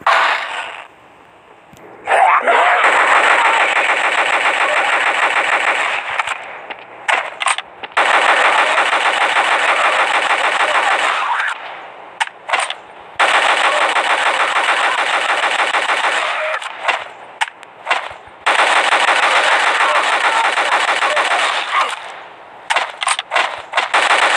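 Rapid automatic gunfire from zombies in a zombie shooter video game blasts in long, loud continuous bursts separated by brief pauses, dominating the mix throughout.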